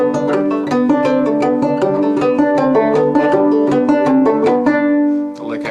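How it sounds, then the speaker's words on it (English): A banjo is played up close, picking a quick, even run of bright plucked notes in an exercise in the Converse banjo style from the Analytical Banjo Method. The notes ring clearly and the phrase ends with a final strum. "This is number 1 from the General Exercises Banjo Style by Converse from the Analytical Banjo Method. Sounds like this"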